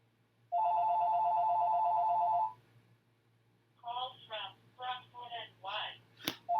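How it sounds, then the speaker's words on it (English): A landline telephone rings once in a long, steady electronic tone, then falls silent, followed by a person talking nearby. "There goes my phone again."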